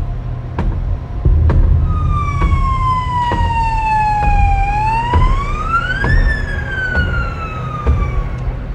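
A loud wailing emergency siren sweeps down then rises and falls again over traffic rumble, with regular clicking ticks throughout, close and prominent.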